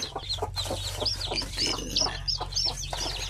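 A hen clucks with her chicks close by, a steady run of soft clucks and high chirps repeating through the stretch over a low farmyard hum, with no talking.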